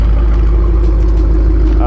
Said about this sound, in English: It's got a full Corsa exhaust, stainless with an X-pipe.